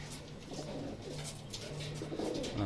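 A racing pigeon coos softly and repeatedly, low throaty calls with faint background noise around it.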